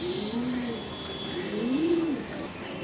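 A racing pigeon of foreign Kitel and New Kitel lineage coos in two drawn-out, rising and falling calls, close and clear against steady background noise.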